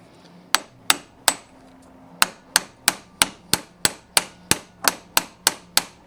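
A hammer strikes a socket to drive a worn wheel bearing out of its hub: a close series of about fifteen ringing metallic blows, first spaced out, then a brisk steady run, with no voices.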